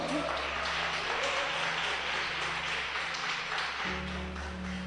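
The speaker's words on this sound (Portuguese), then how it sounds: "Você pode dar um aplauso para o Senhor?" Church congregation applauding during a sermon, a sustained wash of clapping over a low hum, with a steady tone shifting partway through and no voices.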